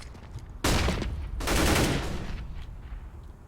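Scout sniper rifle shots in a CS:GO match on Overpass, two sharp loud cracks in quick succession with a short ringing decay after each.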